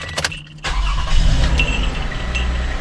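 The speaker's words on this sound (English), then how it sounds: "So I'm going to start up the vehicle." A 2016 Toyota Sienna SE cranks briefly after a few clicks, then its engine catches and settles into a steady, close idle hum that stays loud to the end.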